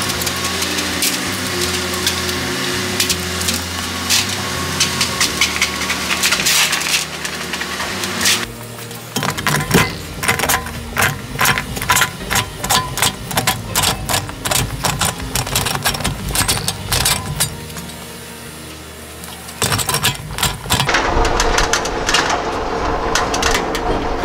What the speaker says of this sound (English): I'm gonna put it in the stretcher, and that will give it the radius